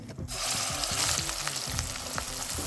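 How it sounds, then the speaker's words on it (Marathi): A thick gravy paste for veg kofta curry hits a hot pan with a strong, steady sizzle and sputtering, alongside scraping and stirring sounds close by. "कढई गरम झालेले आहे तर त्याच्यामध्ये हे ग्रेव्ही टाकायची."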